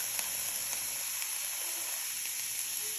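Food sizzling in a covered pan with olive oil, a constant soft frying hiss with faint crackles throughout, even and unbroken.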